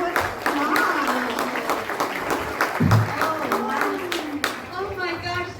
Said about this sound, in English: how about a big round of applause for everybody that we met